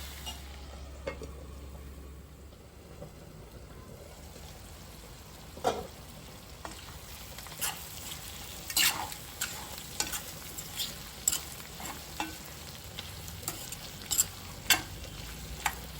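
Prawns coated in masala cook slowly on a low flame for an Andhra-style prawn fry, giving a faint, steady sizzle broken by scattered sharp scrapes and taps of stirring, with no talking.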